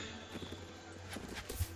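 Horse hooves in the video game Mount and Blade, a quick run of soft clip-clop beats over a steady low game hum, with a few louder thumps near the end and no talk.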